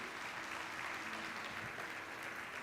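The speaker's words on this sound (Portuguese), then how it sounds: "você pode dar um aplauso ao Senhor" A church congregation at a communion service claps together in a steady, distant wash of applause that lasts the whole stretch, with no clear voices above it.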